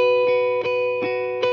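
An electric guitar on its single coil pickup, picked lightly with delays off, plays a slow phrase for a song: sustained clean tones ringing together with soft plucks about every 0.4 seconds, close and alone.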